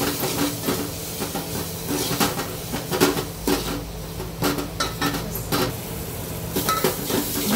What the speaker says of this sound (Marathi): आणि आता हे वाटण टाकून घेते कांदा खोबऱ्याचं. आता ही आपण व्यवस्थित परतून घेऊया.